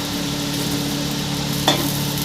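A fried hilsa fish head added to a hot pan of tangy sauce simmers with a steady close hiss and a faint bubbling hum, broken by one brief clink near the end.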